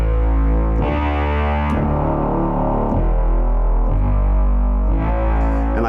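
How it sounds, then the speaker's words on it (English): Taurus bass pedal synthesizer sounds a run of deep, sustained, distorted bass notes, each held about a second before stepping to the next, loud and steady with no talking. "The Taurus bass pedals had a sound like this."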